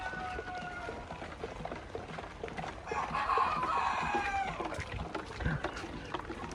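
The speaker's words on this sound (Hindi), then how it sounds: "इधर मुर्गियां जो हैं वो पैक हो रही हैं।" Black Australorp and Rhode Island Red chickens cluck and squawk as they are packed for dispatch, a busy flock chatter at middle distance with people talking nearby.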